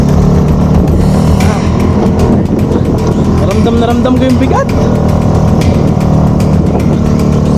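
A 125cc Vespa S125 scooter engine labours loudly and steadily up a steep mountain road toward Mount Olis, a constant drone with a brief rising strain midway, while a rider talks over it.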